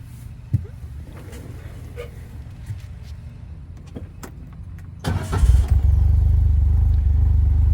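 John Deere XUV 835M utility vehicle with a 54 hp 3-cylinder gas engine, starting midway with a clattery burst and then a loud, steady close engine drone after a stretch of quiet rustling.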